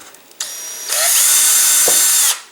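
A power drill bores a hole in the body tube of an upscaled Estes Ninja high power rocket, a loud close whine that starts in two stages, holds steady for over a second with a brief dip, then stops sharply.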